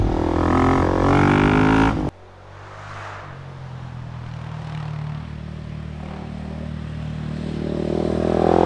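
A Husqvarna 701 Supermoto single-cylinder motorcycle with a de-baffled exhaust roars loudly at first, then drops to a lower steady engine drone that slowly builds again.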